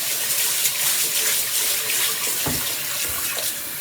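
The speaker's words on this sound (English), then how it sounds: "I just swish it around and rinse it 3 times." Tap water runs steadily into a pot of rice being rinsed in a kitchen sink, a continuous close gush with a few soft sloshing splashes as the grains are swished around.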